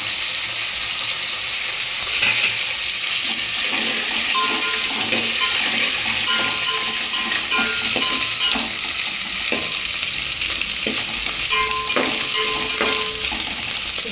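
Ginger fries in a pan with a loud, steady sizzle and hiss that lasts throughout, with faint stirring clinks now and then and no talking.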